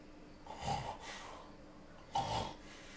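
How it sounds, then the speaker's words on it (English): Heavy, raspy breathing of the Roadhog character in a video game, two slow wheezing snort-like breaths, close and fairly faint with no talk. "Listen to Hog's breathing."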